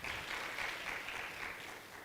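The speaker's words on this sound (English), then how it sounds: "Give him also a round of applause," A seated conference audience at a wildlife and biodiversity investment gathering in South Africa claps in a steady, dense wash that holds fairly even and sounds somewhat distant and soft throughout.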